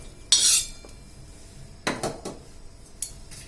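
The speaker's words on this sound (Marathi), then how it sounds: "आपली लसूण पण भाजून झालेली आहे आता आपण त्याला पण प्लेटमध्ये काढून घेऊया" Roasted garlic scraped from a pan onto a plate, with a loud metallic utensil scrape against the pan, then a few lighter clinks and scrapes of cookware, no voices.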